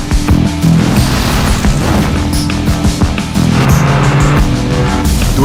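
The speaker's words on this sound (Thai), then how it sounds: "เครื่องยนต์เทอร์โบ ให้คุณทยานได้เต็มที่" An MG GS Turbo with its turbocharged engine accelerating hard, a loud sustained low rumble with rising engine tones and sharp booming hits throughout, close and forceful.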